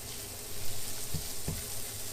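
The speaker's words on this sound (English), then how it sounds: "Brown it lightly. We don't want to overcook it. You do not want to burn your garlic." Garlic browning lightly in a frying pan gives a steady gentle sizzle with faint crackles and two brief soft knocks, moderately quiet.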